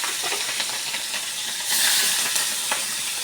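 Green chilies and tomato dropped into hot oil tempered with white cumin seeds, a dense hissing sizzle that swells briefly partway through, close and alone with no talk.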